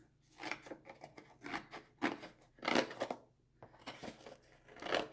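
Scissors snipping through cardboard to cut out a heart template: a run of crisp, irregular cutting crunches and slices, fairly close and quiet, with short pauses between strokes and no talking.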